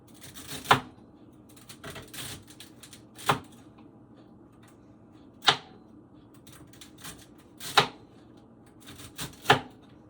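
A knife chops through a whole bunch of celery ribs at once on a cutting board, giving sharp, close thuds at irregular intervals of a second or two, with quieter scraping and handling noises between the strikes.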